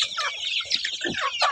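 Several chickens cluck close by in a quick, overlapping burst of short calls.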